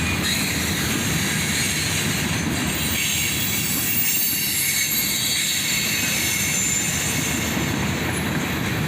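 A Norfolk Southern freight train hauled by EMD locomotives rolls past near Dayton, loud and close, with steady wheel rumble and metallic squeal filling the whole stretch, no voices.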